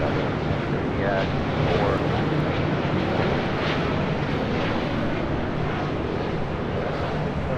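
A heavy airliner arriving at LAX, heard as a steady broadband jet roar with wind noise, fairly distant and sustained, with faint radio chatter underneath.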